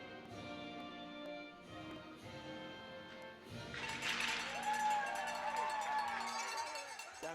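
Crowd at a Shreveport Mudbugs versus New Mexico hockey game in Albuquerque breaks into swelling applause and cheering after the national anthem, with a steady murmur of voices rising into a loud, sustained roar near the end.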